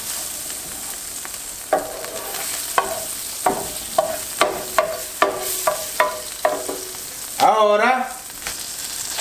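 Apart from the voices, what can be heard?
egg frying in butter in a pan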